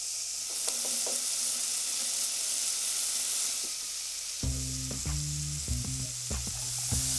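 Bacon sizzling steadily in a pot as the base for corn chowder, a close, continuous frying crackle with faint knocks of stirring.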